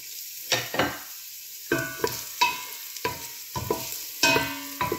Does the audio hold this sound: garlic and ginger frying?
yes